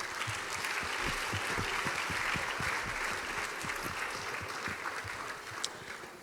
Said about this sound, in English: we invite you all to join us in giving a resounding applause to the women who make